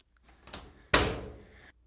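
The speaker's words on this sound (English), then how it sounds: "Trinity heard the sound of the door unlocking" A door is unlocked up close: a few soft clicks, then a sharp metallic clack that rings with a brief rattle before fading into quiet.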